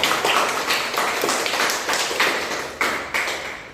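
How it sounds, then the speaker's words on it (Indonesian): Students in a classroom applauding, a run of quick, close claps in uneven bursts that fade and then restart, with no talk over them. "silahkan beri aplaus kepada Anda"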